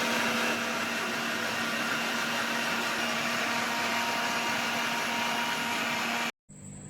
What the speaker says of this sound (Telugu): ఈ విధంగా మిక్సీ పట్టుకున్నాను.